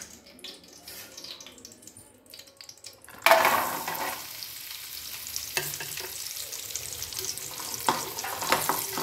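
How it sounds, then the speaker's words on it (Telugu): Raw tamarind goes into hot oil for pickle: a quiet start, then a sudden loud burst of sizzling that settles into steady frying with occasional stirring. "ఇవి ఒక 15 మినిట్స్ వేయించుకోవాలండి."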